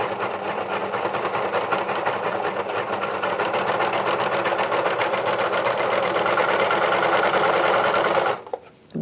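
A Janome 134D serger runs continuously while stitching two fabrics together, a loud, fast, even mechanical whir with rapid needle rhythm close up, stopping abruptly near the end, no talking.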